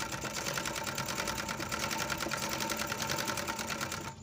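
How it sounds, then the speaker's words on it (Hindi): Overlock sewing machine stitching at high speed, a fast steady rattling whir that runs evenly throughout, close and continuous with no talk over it. "अब सिलाई मार के दिखाते हैं।"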